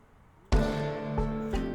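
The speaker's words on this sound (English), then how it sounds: "That little noise you heard there was just the first skill point from the carpentry going up." Carpentry skill-up chime in Project Zomboid, a short bright tonal cue that starts suddenly after near silence and rings on, with two further soft tonal pulses following.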